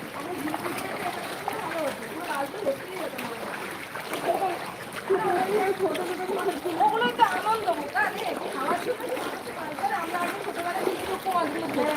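Sloshing and splashing water as someone wades through flood water in a flooded lane, a continuous churning wash under nearby voices talking.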